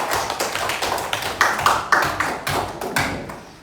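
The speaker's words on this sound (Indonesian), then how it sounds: "tepuk tangan dulu untuk kelompok flash disk" A classroom group applauds, a short burst of steady claps with a few sharper, louder hits, close by and with no talking over it.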